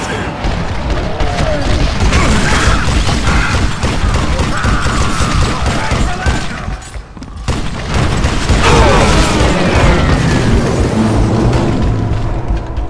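Loud dynamite blasts and booms in the Western shooter Call of Juarez: Gunslinger, mixed with dense gunfire and mechanical clatter. The noise runs almost continuously, with one short drop midway, and a voice talks over it.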